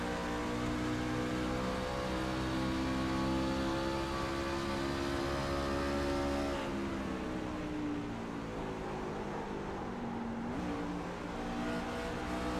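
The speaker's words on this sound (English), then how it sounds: "You can hear him switching gears there into third" A race truck engine roars steadily, its pitch climbing and then dropping sharply as it shifts up a gear, then climbing again toward another shift.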